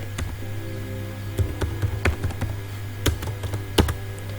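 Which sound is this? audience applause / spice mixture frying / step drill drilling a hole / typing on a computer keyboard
typing on a computer keyboard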